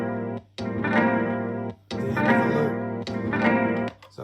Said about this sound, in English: I'm just using it basically as a slapback echo because I like that particular sound.